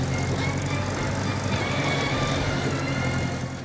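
Lumpy, raw V8-style engine burble from a vintage car in the video game Mafia: The Old Country, a steady loud rumble running throughout with a continuous low drone and no break.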